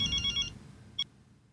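A telephone rings faintly during a call, with a short burst of trilling ring followed by a single brief chirp, then quiet.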